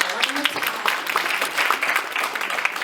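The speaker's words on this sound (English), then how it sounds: "Can we give her a big round of applause?" Audience applause at a tribute lecture honouring Mama Sobukwe, a steady wash of many hands clapping at moderate distance, filling the whole stretch without a clear break.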